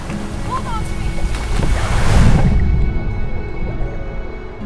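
Surging ocean waves and tide swell to a loud crest midway, with wind noise and a boat-like rumble underneath, heard near and continuous.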